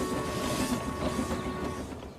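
Steam engines from the Trainz 19 railway game, Thomas and Stepney, pull away with a steady mechanical rumble and faint rail clatter, plus a constant tonal hum, heard alone for a couple of seconds.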